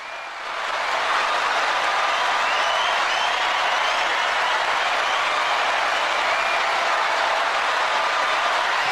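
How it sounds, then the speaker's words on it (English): Steady, dense applause from a large crowd, rising quickly after a quiet first second and holding at full strength without a break. "And when the applause dies down,"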